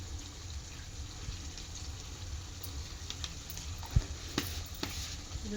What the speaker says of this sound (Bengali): এটা ভালো কষিয়ে নেব।